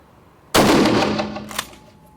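A single loud gunshot at an indoor shooting range, a sharp blast that rings and decays over about a second and a half.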